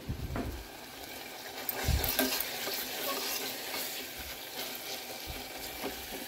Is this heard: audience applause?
no